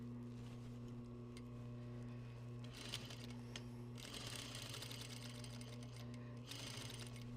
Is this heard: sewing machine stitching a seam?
yes